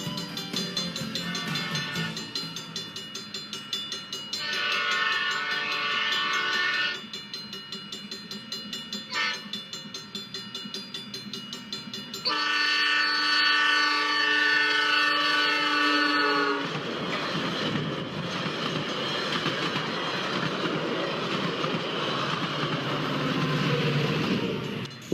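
A Metra commuter train on the Milwaukee District line rumbles past with rhythmic rail clatter and a loud horn sounding in repeated blasts before the roar fades into steady track noise.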